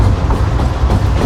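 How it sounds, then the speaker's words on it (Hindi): Pak Business Express locomotive, number 6026 AG30, rumbling steadily and loud, a continuous low diesel drone with train noise and no pauses. "अलग ही बात है भाई इस लोकोमोटिव की, बहुत ज़बरदस्त"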